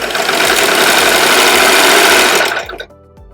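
A serger sewing machine runs at full speed chaining off a thread tail, a loud, dense, steady mechanical whir with rapid stitching that winds down and stops near the end.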